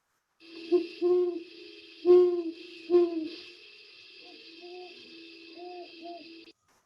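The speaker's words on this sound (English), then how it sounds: "Here's a great horned pair answering each other." A pair of great horned owls exchange deep, low hoots, a series of soft rhythmic calls answering one another, with a faint steady high hiss in the background.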